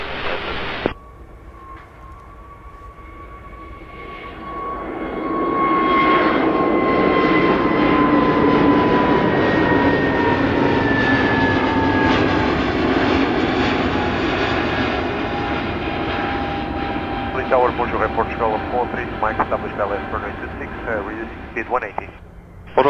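A jet airliner on the runway at Paris Orly airport, its engines swelling into a loud sustained roar with a falling whine, then easing as it moves off, with air-traffic radio talk faintly audible.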